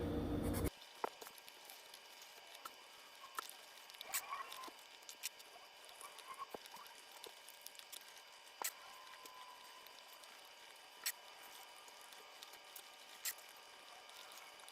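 Marker or pen drawing and colouring on paper, filling in a blue Pennsylvania state flag, heard as quiet scratchy strokes and light taps scattered throughout, close and faint, with no talking.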